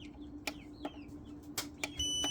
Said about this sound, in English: It doesn't matter what setting I put this on, it still beeps.